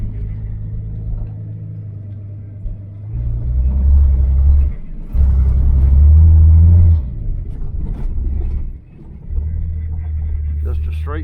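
An old straight-six car engine that has sat parked for years runs roughly after starting, a loud low rumble that surges and dips unevenly, with voices talking over it.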